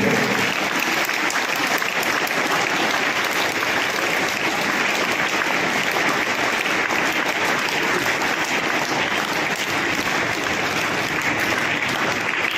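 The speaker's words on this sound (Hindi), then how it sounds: "जोरदार तालियां, जोर से, पूरी आवाज में," Loud, sustained applause from a crowd at a school CBSE result celebration, dense and continuous clapping that holds steady at full strength throughout with no pauses.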